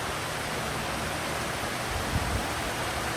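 Steady rush of running water at Magic Kingdom, a continuous broadband splashing like a fountain or small waterfall, close and fairly loud, alone without talk.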